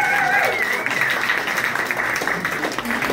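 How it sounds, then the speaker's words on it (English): Loud, dense applause from an audience at a Nevada veterans home show, a continuous roar of clapping with a voice speaking over it. "he deserves a round of applause"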